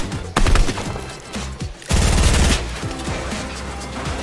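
Bursts of gunfire from another player in an online arena shooter, a rapid volley early on and a denser string of shots midway, fairly loud with in-game sounds around them.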